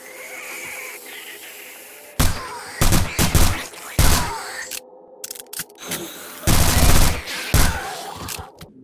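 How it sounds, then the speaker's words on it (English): SMG gunfire in the survival video game 7 Days to Die, loud rapid bursts of shots over a steady game ambience and background noise, some short and some longer, with someone talking during parts of it. "Feels a bit wasteful using the SMG for all this."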